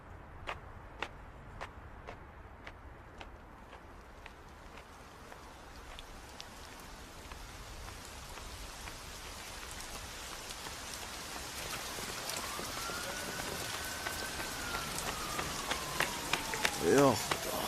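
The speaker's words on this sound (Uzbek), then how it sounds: "Yomg'ir bo'lmasligi kerak edi-ku." Steady rain pattering on surfaces, growing gradually louder, with light individual drip ticks near the start and voices talking over it near the end.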